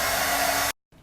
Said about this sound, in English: then you're gonna use your blow dryer and blow dry it